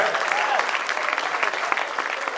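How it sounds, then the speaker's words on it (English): A comedy club audience at the Funny Bone in Toledo, Ohio bursts into dense, sustained clapping, a close crowd of hands with some scattered voices mixed into the applause. "give a round of applause for those friends you know, right?"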